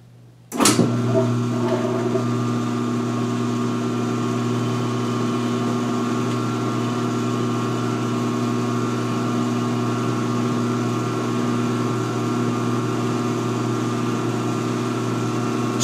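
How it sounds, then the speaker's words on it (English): A 2016 Speed Queen washing machine starts up and runs steadily through its first spin drain, its motor and belt-driven drum humming with a sustained, even drone that holds loud and unchanging from the start. "now we will do the first spin drain"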